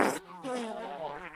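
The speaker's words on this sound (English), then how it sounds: "So right away we get a wet fart." A wet, sputtering fart sound effect played from a fart button, a long buzzy, bubbly rasp lasting over a second at moderate loudness, heard alone.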